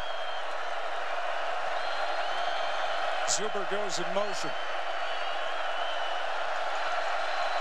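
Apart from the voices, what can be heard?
football stadium crowd cheering loudly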